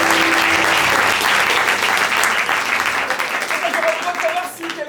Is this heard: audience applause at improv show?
yes